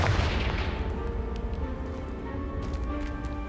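A Confringo blasting spell explodes in the Hogwarts Legacy video game at an estate, opening with a loud boom that decays into a rumbling tail and scattered debris clatter.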